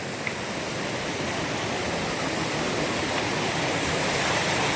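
Steady, dense rush of falling water, loud and continuous like a waterfall close by, with no voices.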